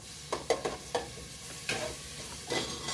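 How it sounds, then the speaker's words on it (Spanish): Finely chopped garlic and onion sauté in butter for a spaghetti-with-sausage dish, with a soft steady sizzle and several sharp scraping stirs of a utensil against the pan, close and without talk. "Agrego el ajo, la cebolla que tengo finamente picadas. Voy a empezar a darle una sofritita"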